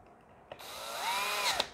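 A cordless power tool briefly whirs up to speed and runs for about a second while tightening terminal lugs on a 24V 120A LiFePO4 lithium battery pack, a close rising whine ending with a short click.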